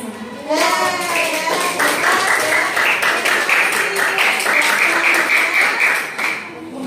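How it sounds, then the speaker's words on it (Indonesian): A class of eighth-grade students applauds a student group, a dense burst of clapping that swells in quickly and holds steady for several seconds, with children's voices mixed in and someone speaking briefly at the start. "terima kasih besar kelompok 1 ya, kasih aplaus"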